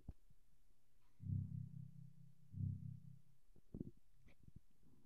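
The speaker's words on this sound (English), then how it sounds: "And then when you put your cursor over something, it sounds like this." Cursor hover effect in the Mac game Big Bang Board Games: two soft, low humming swells with a throbbing, echoing tail, followed by scattered faint clicks.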